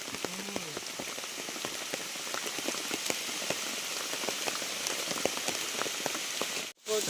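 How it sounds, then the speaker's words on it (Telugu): Steady rain patters on a hillside pineapple farm, a close, even hiss of countless drops striking foliage, continuing alone for several seconds before a brief sharp knock near the end. "ఫ్రెండ్స్ వర్షం పడుతుంది చూడండి"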